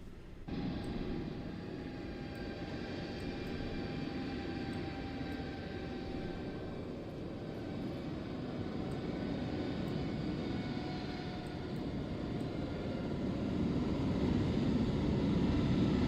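In Microsoft Flight Simulator 2024, an aircraft engine drones steadily while the plane taxis, a continuous hum with faint whining tones that swells slightly louder near the end, with no talking.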